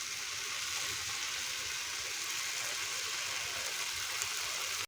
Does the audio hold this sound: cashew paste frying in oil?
yes